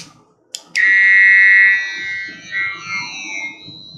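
A handheld electric coffee press running on AAA batteries starts with a couple of clicks, then a loud high-pitched motor whine that wavers and fades to a fluctuating lower buzz, with no voices.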